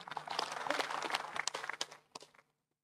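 A room of officials at a DPD (Indonesian Regional Representative Council) meeting breaks into quiet, dense clapping that thins into a few scattered claps and fades out near the end.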